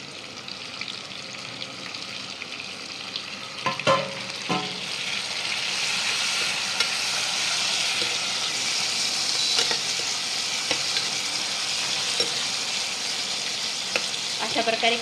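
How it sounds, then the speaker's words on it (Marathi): Onion and tomato fry in plenty of oil for hostel soyabean khichadi, a dense continuous hiss and crackle that swells and holds steady, with a few scattered clinks of a spoon against the pot up close. "अशा प्रकारे कांदा टोमॅटो मी टाकलेला आहे आणि ते तेलामध्ये थोडा फ्राय होत आहे."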